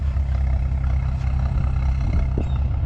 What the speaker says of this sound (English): I want y'all to hear how it sounds when it like when it's idling